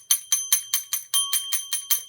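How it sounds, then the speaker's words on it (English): A small souvenir bell from the Tower of Terror ride at Disneyland Paris rings in rapid, evenly spaced bright strikes, about ten in a row, loud and close with a lingering metallic tone and no talking. "My son wanted a bell from Tower of Terror."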